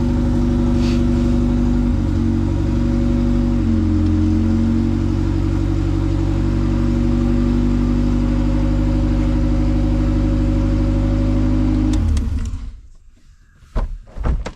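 A Honda CRX engine idles steadily after its first start following a rebuild, a loud close drone with a constant hum that cuts off near the end, followed by faint clatter.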